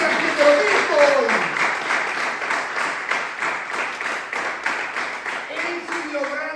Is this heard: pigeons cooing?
no